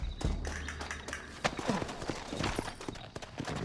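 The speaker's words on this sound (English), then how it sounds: "Looks like Carlos left us some horses" Horse hooves clip-clop in the video game Red Dead Redemption, an uneven run of hollow taps near the listener with a few sharper knocks, amid background game sounds.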